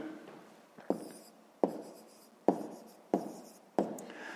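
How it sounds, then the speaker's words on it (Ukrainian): A math solution is written by hand on paper, with pen strokes scratching in short bursts, each one starting with a sharp tap, five strokes at a fairly even pace, close and quiet. "Ну що ж, тоді записуємо."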